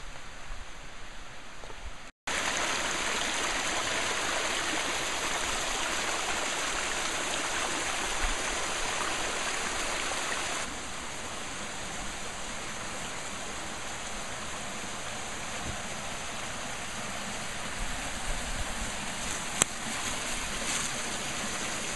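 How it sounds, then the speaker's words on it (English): Mountain stream on Mount Major runs steadily through a forest of white ash and eastern hemlock, a broad continuous rushing wash that stays loud and even from start to finish, with a brief dropout early on. "You hear the running water?"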